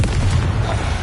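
A Confringo explosion spell in Hogwarts Legacy goes off as a single heavy, close boom with a deep rumbling tail lasting about a second.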